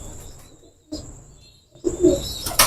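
Teddy pigeons coo in short throaty bursts, one brief call followed after a pause by a louder, closer run of cooing over a quiet background.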